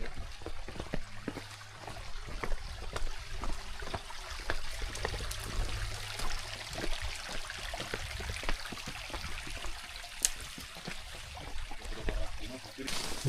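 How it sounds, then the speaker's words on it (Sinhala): A clear stream flows through a forest near a high peak in Kegalle district, giving a steady, close rushing and trickling wash that lasts the whole time with no breaks. "මෙතන වතුර පාර ගලන මාර පිරිසිදු."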